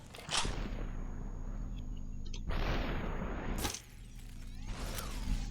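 Gunshots in the video game Superhot, a few sharp synthetic blasts and whooshing shatter sounds spaced across several seconds over a low steady game drone.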